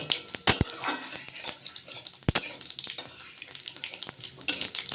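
Cumin seeds, a bay leaf and dried red chillies sizzle in hot oil in a pan as they are stirred, giving scraping and clinking spoon-on-metal strokes over a steady frying crackle.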